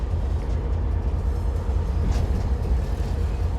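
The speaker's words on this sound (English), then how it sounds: "Well, that's the sound of the train coming into the station." Lobito Atlantic Railway freight train carrying copper through Angola, a steady loud low rumble of wheels and engine filling the whole stretch without pause, heard from close by on board.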